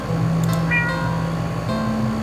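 A cat meows in a video game, a couple of short tonal mews standing out over a steady humming game backdrop.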